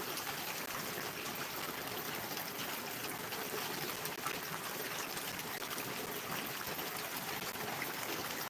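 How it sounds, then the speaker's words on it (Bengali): Heavy rain falls steadily in a dense, even hiss with a faint trickle of running water, soft and distant with no talk. "এখন বৃষ্টির অবস্থা কি এইভাবে বৃষ্টি হতে থাকলে পানি উঠে যাবে প্রায়"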